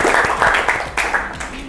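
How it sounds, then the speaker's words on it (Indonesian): Classroom applause for a student, a short burst of many hands clapping at moderate loudness with some voices mixed in. "Kasih tepuk tangan dong untuk Cahaya ya."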